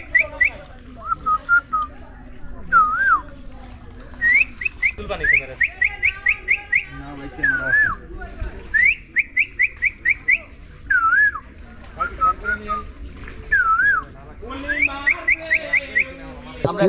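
A man whistles imitations of bird calls on a boat trip in Ratargul Swamp Forest near Sylhet, Bangladesh, producing repeated trilled chirps and rising-falling whistled phrases in bursts over a steady low background rumble.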